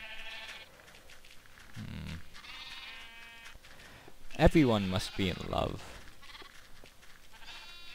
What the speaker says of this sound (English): These are the sheep that are going to fill the pens eventually.